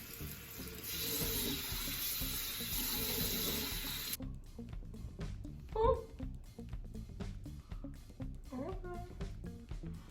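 Tap water runs steadily while a face scrub is rinsed off, then cuts off after about four seconds, leaving quieter splashes and handling sounds with a voice nearby.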